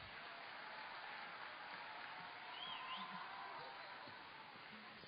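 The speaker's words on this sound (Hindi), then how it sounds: "एक बार जोरदार तालियां इन सब के लिए" Applause from an audience at a children's arts festival prize distribution, a steady, moderately distant wash of many hands clapping with faint crowd murmur and a brief whoop.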